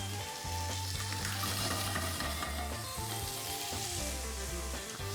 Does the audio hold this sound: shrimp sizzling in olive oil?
yes